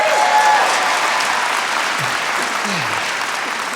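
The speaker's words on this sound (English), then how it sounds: "One more round of applause." Sustained audience applause fills a hall at the James Beard Restaurant and Chef Awards, a dense even wash of clapping with faint crowd murmur and brief voices underneath.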